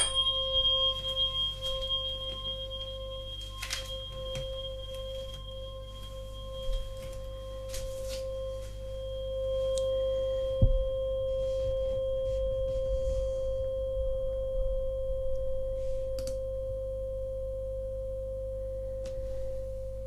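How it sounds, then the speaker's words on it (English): A steady pure sine tone at 528 hertz, played as part of a calming guided breathing exercise, holds unbroken and even for the full length with faint higher tones and soft low hum beneath, no voices. "And then put a cocoon of 528 hertz."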